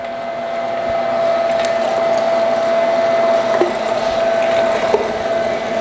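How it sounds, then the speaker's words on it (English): An electric meat grinder runs with a steady motor whine and hum while pork mixture for Italian pepperoni is fed through, a loud, close, continuous drone with a few small knocks, no voices. "There's our meat mixture, about to hit the grinder."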